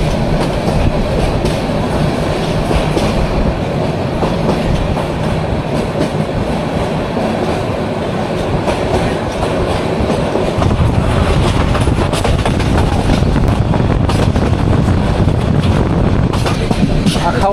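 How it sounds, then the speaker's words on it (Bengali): Upaban Express passenger train runs at speed on the tracks, heard from inside as a loud continuous rumble with rattling carriages and rhythmic clickety-clack. "এই ট্রেনটি পরবর্তী স্টেশনে থামবে না"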